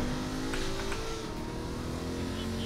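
A car in the video game Agents of Mayhem drifts with its engine holding a steady, droning rev under a continuous hum, fairly quiet and unbroken, with no talk.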